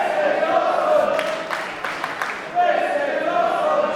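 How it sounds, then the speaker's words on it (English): Wrestling crowd at a live show in a banking hall roaring steadily after a near-fall kick-out, a loud sustained roar with cheers and shouts swelling again toward the end, voices mixed through the noise. "Hear the crowd roar."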